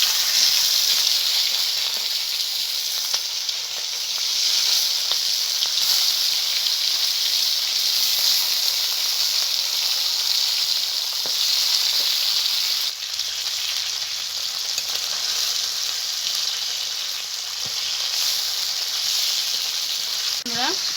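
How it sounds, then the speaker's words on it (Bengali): Fish rubbed with salt and turmeric sizzles steadily in hot mustard oil in a kadai, a continuous close, loud frying hiss with occasional crackles and no talking. "তেল গরম হয়ে গেছে মাছটাকে বেজে নিচ্ছি"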